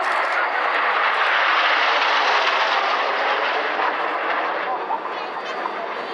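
Red Arrows jet aircraft fly in formation at Waddington, making a steady, broad roar that holds for several seconds and then eases slightly, fairly loud and continuous.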